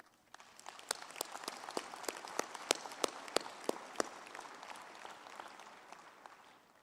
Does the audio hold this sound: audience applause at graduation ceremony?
yes